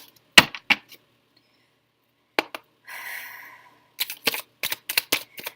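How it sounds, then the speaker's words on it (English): A deck of tarot cards is shuffled in sharp, close bursts of riffling and snapping, separated by pauses, with one longer soft rustling sweep in the middle and no voices. "that was a good shuffle"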